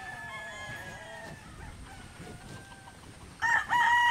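Chickens crow and cluck repeatedly in a pen on a farm in Maragondon, Cavite, over a steady background hiss, and a louder, close crow bursts out near the end.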